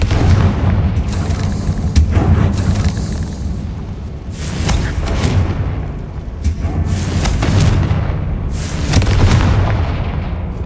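A Confringo fire spell in a Harry Potter video game sets off a run of heavy, booming blasts with crackling bursts, repeating roughly every couple of seconds over a dense low rumble, loud and close.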